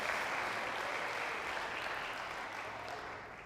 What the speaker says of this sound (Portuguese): Aplauda Jesus, irmão, aplauda o Senhor Jesus